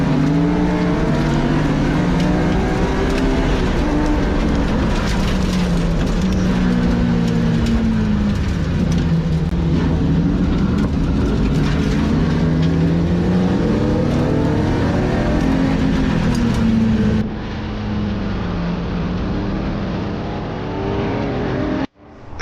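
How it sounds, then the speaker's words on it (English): Drift cars run at Firebird Motorsports Park, engines revving and wailing as they rise and fall in pitch over about twenty seconds. The sound is loud and continuous, with tire roar under it, before it cuts off abruptly. "I think they're called drifters, the only form of motorsports where you intentionally lose traction to go slower."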